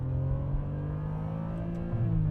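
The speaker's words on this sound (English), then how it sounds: "Just low rev, that rumble of that V12, and then knock it down a couple gears, get a little higher." A Ferrari 575M Maranello's naturally aspirated V12 rumbles at low revs close by, a steady deep drone that briefly lifts in pitch near the end as the revs rise.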